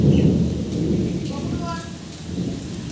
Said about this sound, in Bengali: জোরে হাওয়া দিয়েছে আর এরকম বাজ গজরাচ্ছে